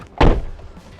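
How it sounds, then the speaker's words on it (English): A door on a 1981 Bond car gives one short, loud creaking thunk that fades quickly into low background noise. "Oh, a few creaks and cracks with the door."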